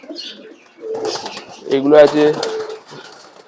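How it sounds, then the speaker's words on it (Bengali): Fancy pigeons on a farm coo in a short run of soft, throaty calls, loudest in the middle, while someone talks over them close by. "ফস্টার পায়রার বাচ্চা"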